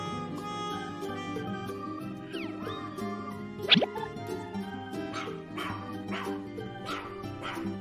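A dog barks and yips a few times over a bed of cheerful music, the barks short and fairly close.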